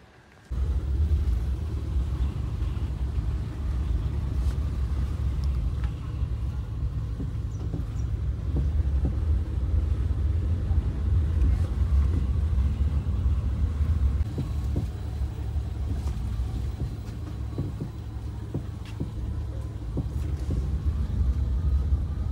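A car drives slowly over a narrow single-lane bridge road by a beach in South Goa, giving a steady, loud low rumble of engine and tyres that carries on unbroken with no talking.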